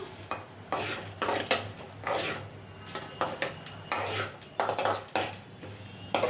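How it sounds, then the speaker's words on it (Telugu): A spoon scrapes and stirs a dry curry leaf powder mixture in a pan, giving repeated close gritty strokes with faint sizzling underneath, steady and fairly loud with no talking. "ఇలా కలుపుతూ ఉండాలి ఫ్రెండ్స్."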